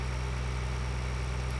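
Steady idling tractor engine in Farming Simulator 2013, a continuous low droning hum with no variation, close and alone.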